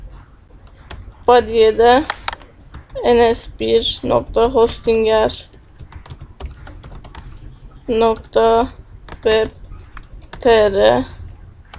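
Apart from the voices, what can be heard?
typing on a computer keyboard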